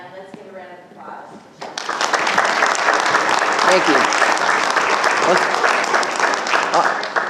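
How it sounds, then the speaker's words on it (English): Conference audience at a quality-focused utility industry session breaking into applause: a brief spoken line, then loud, dense clapping from a large crowd that swells fast and holds steady to the end. "let's give a round of applause"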